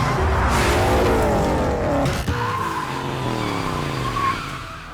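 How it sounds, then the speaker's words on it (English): Ford Mustang driving hard, its engine roaring as the tires squeal in long skids, loud and close, with the engine note rising and falling through the clip. "That's a Mustang."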